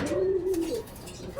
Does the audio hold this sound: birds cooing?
yes